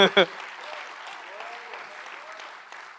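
Applause from a church congregation rises briefly, then continues as a soft, steady patter with faint voices and a few short tones.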